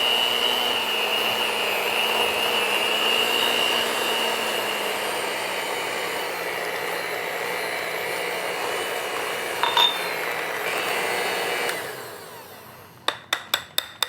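Cream cheese, sugar and peach juice are mixed in a bowl for a peaches and cream pie. A steady whirring drone carries on for several seconds, then fades. Four sharp knocks follow at the end.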